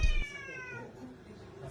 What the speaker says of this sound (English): look at the kitties